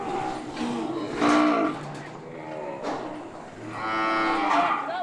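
Female beef cattle on a breeding station in Australia's Kimberley give long, loud, drawn-out moos close by. Two main calls come one after another, and the second stretches out near the end.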